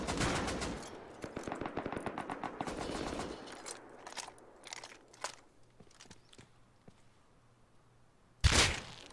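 Rapid bursts of gunfire from a scoped sniper rifle in the survival game Rust crackle loudly for a few seconds, then give way to scattered faint clicks and shuffles before one sharp, loud shot near the end.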